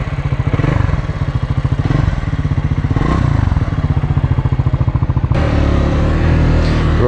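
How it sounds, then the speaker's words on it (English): A Triumph Scrambler 400X motorcycle engine thrums close by in a steady, pulsing single-cylinder beat, with a brief shift in tone near the end as it changes pace, alone without talk. "Yeah, I do like the sound of this scrambler."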